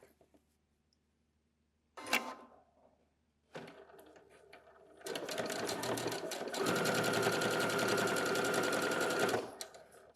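A domestic sewing machine stitching fabric while sewing trousers, with a short burst near two seconds, then sustained loud running from about three and a half seconds on that grows steadier and fuller until stopping near the end.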